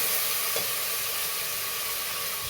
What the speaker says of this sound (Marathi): बटाटा सुद्धा याच्यामध्ये याच्यातच परतूया